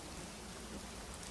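Steady rain in the Secret Files: Tunguska adventure game, a dense, even hiss of falling water at moderate volume with no other sounds.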